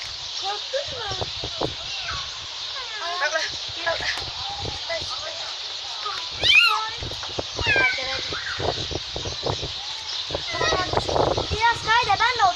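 Newborn kitten meowing repeatedly in short high cries near children in an apartment building, with kids talking and chattering throughout.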